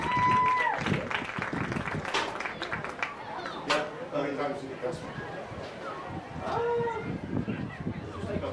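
Spectators at a high school scrimmage clap and cheer for the cheer squad. The applause is scattered and moderate and is heard under a voice speaking over a public address system and nearby chatter.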